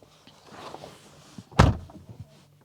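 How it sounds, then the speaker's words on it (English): An Audi RS e-tron GT door shutting with a single solid, close thunk, set among faint interior rustles and movement. "When you jump inside and close the door"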